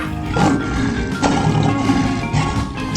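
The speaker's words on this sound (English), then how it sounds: "Lion." A lion roars in a 3D animal sliding video game, a loud, rough, sustained growl mixed with dense game sound and a steady musical tone, no one talking over it.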